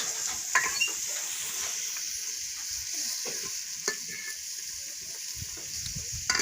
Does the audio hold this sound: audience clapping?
no